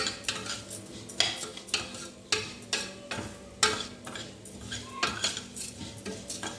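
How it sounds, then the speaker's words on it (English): Food browning in a pot for pilau being stirred, with repeated loud metallic scrapes and clinks of a utensil against the pot at an uneven rhythm over a quiet sizzle. "If you don't keep stirring, they can burn, become black, and that's not what we want."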